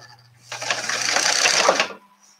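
Serger sewing machine stitching a makeup pouch in one close, busy, rapid rattling run of about a second and a half, starting and stopping abruptly over a faint low hum.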